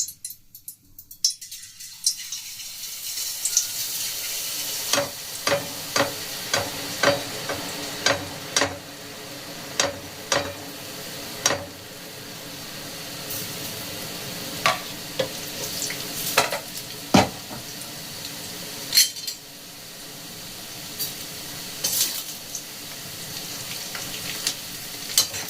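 Hot sugar in a pan sizzles and fries after an ingredient is added, a constant bubbling hiss broken by repeated sharp clicks and taps of a utensil stirring against the pan.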